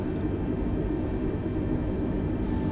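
A jetliner taxiing in Microsoft Flight Simulator 2020 gives a steady low engine rumble and broadband roar, constant and close, with no voices.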